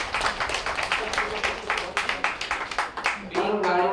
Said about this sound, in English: Give them a lusty round of applause.